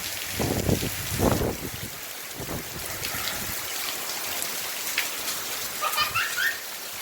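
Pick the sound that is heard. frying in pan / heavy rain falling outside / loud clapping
heavy rain falling outside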